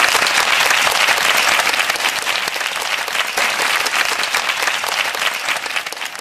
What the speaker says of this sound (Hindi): अपने लिए तो तालियां अच्छी बजा लें।